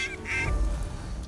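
Ducks call over a field during a hunt, a few short nasal honking notes up close over low wind rumble.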